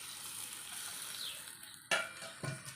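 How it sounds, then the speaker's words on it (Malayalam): Hot tempering of mustard seeds, chilies and curry leaves poured into a potato and yogurt dish, giving a steady close sizzle with a sharper burst of crackle and a couple of clinks near the end. "താളിപ്പ് ഒഴിച്ചു കൊടുക്കാം."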